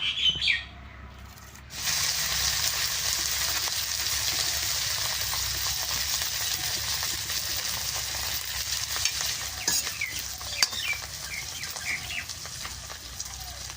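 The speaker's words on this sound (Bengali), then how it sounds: "নরসিংহের পাতাটা বেশ সুন্দর মশমশা করে বাইজে নেব।" Curry leaves crackle and sizzle steadily in hot oil, frying until crispy in a home kitchen after other ingredients are done, with faint stirring clinks and occasional sharper pops throughout.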